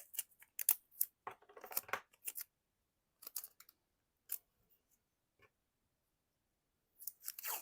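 Scissors snip out paper shapes in crisp bursts of quick cuts separated by short quiet pauses, close and clear with no talk.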